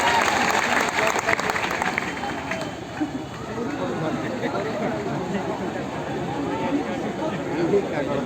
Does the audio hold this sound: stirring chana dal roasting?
no